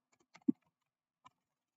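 A few sparse clicks of a computer keyboard, faint and close, with one firmer keystroke in the middle of a short, quiet pause.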